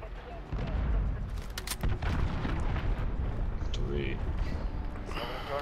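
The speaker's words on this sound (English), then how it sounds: "Allied cruise missile launched" A cruise missile strike explodes in Call of Duty: Modern Warfare, a heavy rumbling blast that starts about half a second in and rolls on for several seconds. Bursts of gunfire and battlefield noise are mixed into the roar.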